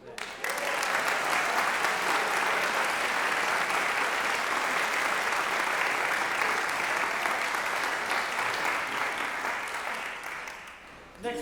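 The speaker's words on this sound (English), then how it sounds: "How about another round of applause for that?" Warm audience applause after a piece at a community wind band concert, a steady, full round of clapping that carries on for several seconds before tapering off near the end.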